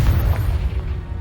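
In Hogwarts Legacy, a Confringo spell explodes as a deep, rumbling boom with a muffled low-end burst that rolls on briefly and fades.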